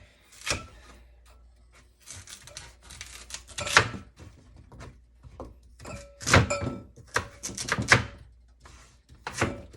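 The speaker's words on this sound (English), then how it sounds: "I'm going to go ahead and dice a sweet potato and put them inside of our bowl here." Knife chopping a sweet potato into small-to-medium cubes on a cutting board, a series of close, irregular wooden thunks and knocks with short pauses between bursts of cuts.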